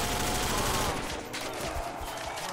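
Dense, continuous gunfire in Call of Duty: World at War zombies mode, loud rapid shots filling the whole short stretch with no pauses.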